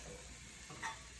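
Carrots sauté in olive oil in a pan, a faint soft sizzle with a brief scrape of stirring partway through, quiet and close with no voices.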